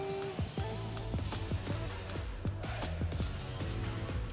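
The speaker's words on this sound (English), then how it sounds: "So once you bass boost it, it will sound like this." A bass-boosted song prepared as a hockey goal horn, processed with Gverb reverb, plays as a quiet, muffled, rhythmic beat with heavy low end and repeated hits, with no voices.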